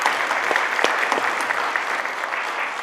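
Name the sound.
audience applause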